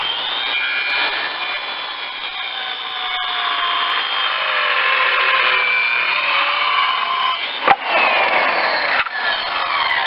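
A saw blade cuts steadily through a piece of wood, a loud, continuous whining rasp lasting most of the time, ending with a couple of sharp knocks as the piece comes free.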